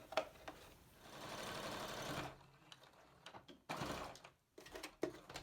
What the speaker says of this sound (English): we're going to go back and sew up this one little spot where we left the opening